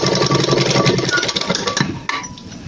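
A sewing machine stitches a cut-choli blouse with a fast, close, rhythmic whirring run that stops abruptly near the end, leaving only faint fabric handling.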